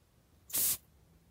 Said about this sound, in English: You just heard me spray just a puff of perfume.